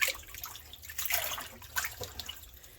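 Mustard greens being rinsed and dipped in water to wash off dirt and mulch, with soft sloshing, splashing and dripping sounds at close range and no talking.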